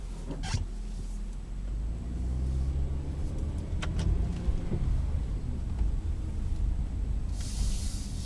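A 2012 Kia Sorento SX AWD mid-size SUV on a test drive, a steady low road and engine rumble with tire noise holding evenly throughout and no talk.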